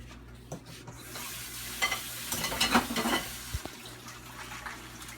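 Iceberg lettuce being rinsed under running tap water in a home kitchen, a steady wash of water with louder splashing bursts in the middle as the leaves are turned, then tapering off.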